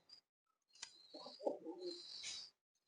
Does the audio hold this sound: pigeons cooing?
yes